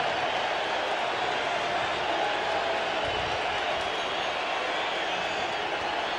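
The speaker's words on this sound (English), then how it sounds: "listen to this crowd as Bonds will walk up" Crowd at a 1998 San Francisco Giants home game against Houston as Barry Bonds walks up to bat, a loud steady roar of cheering fans filling the whole stretch, with a commentator's voice under it.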